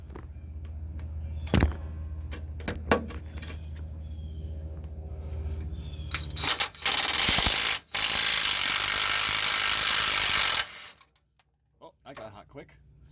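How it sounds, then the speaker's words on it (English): Impact wrench with a 17mm socket on the rear upper control arm bolt of a 2003-09 Toyota 4Runner, a few short bursts, then a loud sustained rattling hammer for several seconds, close, with a brief pause and faint sounds after. "And then we got the 17mm socket on the impact wrench."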